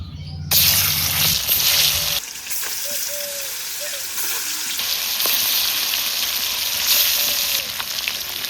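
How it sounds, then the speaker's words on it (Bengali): Pieces of local magur catfish frying lightly in hot oil in a pan, a loud, steady sizzle that runs throughout, with a few faint clicks and pops and no voices. "মাছটা হালকা ভাজা হয়ে গেছে, এখন তুলে নেব।"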